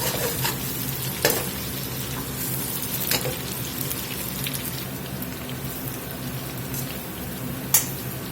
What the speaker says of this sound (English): the sugar and the oil's been frying here about 5 minutes